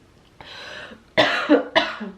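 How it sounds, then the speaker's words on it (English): A few harsh coughs close up, one short cough followed by two sharper bursts in quick succession, with no talking. "Coughing break."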